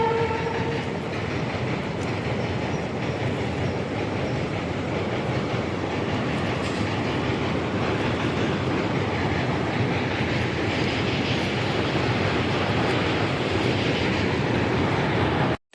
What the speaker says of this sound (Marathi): रेल्वे चालली वरून